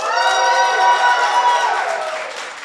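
A large crowd at a League of Legends esports event cheers and whoops loudly for Evil Geniuses, a dense roar of voices that holds steady and then begins to fade.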